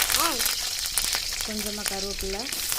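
Mustard seeds and garam masala crackle and pop in hot oil for a hotel-style chapati kurma, a busy sizzle with scattered snaps, overlaid by brief wavering voice-like tones.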